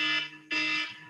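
Game show buzzer sounding as time runs out, two loud harsh electronic blasts in quick succession, each holding steady for a fraction of a second before cutting off.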